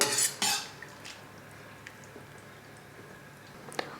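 A spoon scrapes and clinks against a metal pot while stirring snake gourd kootu, starting with a couple of sharp strokes, then quieter stirring and a final light clink.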